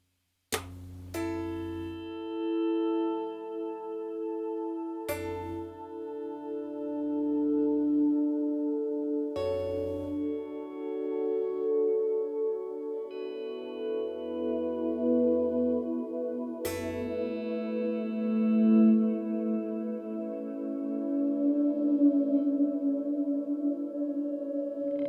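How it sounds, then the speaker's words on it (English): Electric guitar chords through a Strymon Flint swell reverb ring out with a slow, swelling reverb wash, each strike blooming into a long, ambient sustain that overlaps the next. "I go to my swell type verb, which I use the Strymon Flint for"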